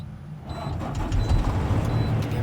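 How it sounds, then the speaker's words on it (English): Truck engine starting during an in-cab inspection, a quiet cab giving way after half a second to a cranking then rising diesel rumble that settles into a steady idle, with faint tonal beeps over it. "now let's turn this vehicle back on"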